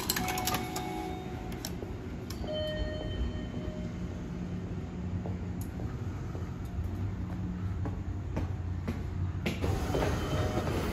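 Kintetsu Suzuka Line train standing at a station, a steady low rumble of the train with faint metallic clicks and brief squeaks, alone without talk.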